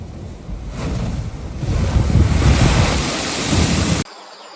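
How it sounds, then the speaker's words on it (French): Powerful surge of a sea blowhole driven by wave pressure, a loud roaring rush of water and spray that swells and holds before cutting off abruptly, with wind buffeting the microphone. "Ce souffleur marin canalise la pression des vagues et propulse d'immenses jets d'eau dans les airs."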